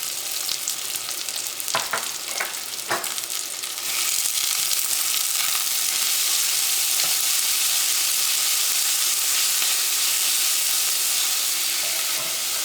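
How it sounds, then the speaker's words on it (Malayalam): Onion, ginger garlic paste and green chilli go into hot oil for chicken spring rolls, a few sharp stirring clatters giving way to a loud, continuous bright sizzle that fills the rest, close and with no voices. "ഈ ചൂടായ ഓയിലിലേക്ക് നമുക്ക് ഏറ്റവും ആദ്യം സവോള ചേർക്കാം."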